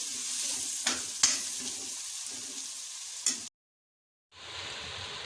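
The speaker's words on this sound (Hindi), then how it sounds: "मसालों को हम भून लेंगे अच्छे से" Spices sizzle and fry in a pan for dal mash makhni with a few sharp scraping stirs, then a brief silent gap before the sizzling resumes.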